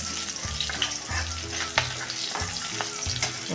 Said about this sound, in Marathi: लसूण मिरची एक मिनिटभर परतूया